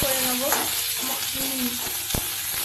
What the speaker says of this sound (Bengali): এইখানে দেখো উচ্ছেগুলো একটু লাল লাল করে ভাজা ভাজা করে নেবো।